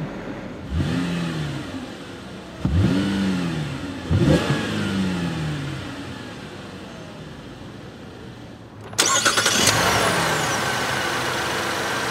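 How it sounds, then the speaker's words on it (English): A 2014 Chevrolet Impala LTZ with a V6 engine starts by push button, then revs several times in quick rising bursts before settling to a close, steady idle. "put your foot on the brake and hit the dash mounted button to start. Nice smooth startup."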